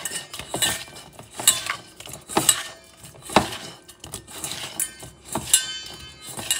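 Beef being mixed with seasoning for Puerto Rican carne frita makes rhythmic clinks and scrapes of a utensil against a bowl, close and fairly loud in uneven bursts.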